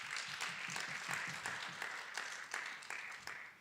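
An audience claps together at a church-style gathering, the broadband patter steady and fairly faint, with a few sharper claps standing out now and then and no voices on top.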